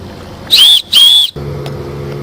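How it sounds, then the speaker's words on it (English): A plastic safety whistle attached to a life jacket zipper gives two sharp, shrill, close blasts in quick succession, followed by a low background hum. "you will recognize the safety whistle attached to your zipper"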